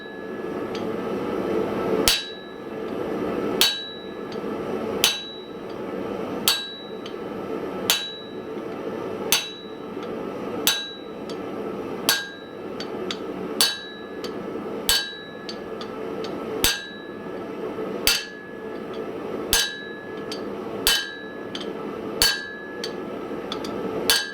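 Forging a froe with a homemade fullering chisel: sharp ringing metallic hammer blows struck at a steady, slightly uneven pace, about twenty strikes close by over a low background hum, no voices.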